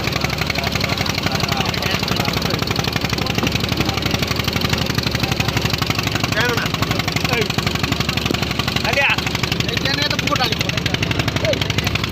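A boat engine at Dhamra Port chugs in a steady, rapid pulse, close and loud throughout, with faint voices mixed in behind it.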